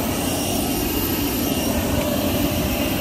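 An airplane's jet engine turbine roars steadily at close range, a loud broadband whine and rumble continuing without pause.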